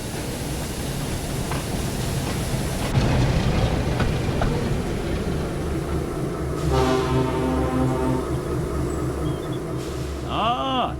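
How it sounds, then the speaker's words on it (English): A diesel engine pulls a train of trucks into a yard, a steady loud rumble and rolling clatter with a rising whine and a brief horn-like tone near the end. "Diesel pulled into the yard with a train of trucks"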